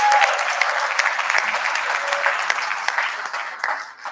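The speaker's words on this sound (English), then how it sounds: "I think that deserves a round of applause." Sustained applause from a conference audience at a TiECon Delhi 2023 session, a dense steady clatter of many hands that stays loud throughout and tapers slightly at the end, with no talking over it.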